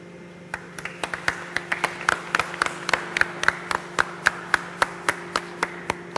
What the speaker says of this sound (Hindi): ताली क्यों बजी?